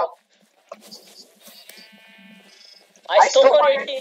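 Sheep bleating in a Minecraft Mineplex minigame, a few short digital bleats amid quiet game sounds, followed by a burst of loud talking near the end.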